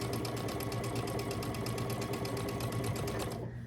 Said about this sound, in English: I'm going to take this one and lay it right side together on this one, and I'm going to stitch it at 1/4 inch.